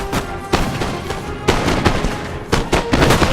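Musket volleys in a Napoleon Total War battle: repeated crackling gunfire bursts in an irregular rhythm, fairly loud over a dense battle din, no talk.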